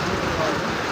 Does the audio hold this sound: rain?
yes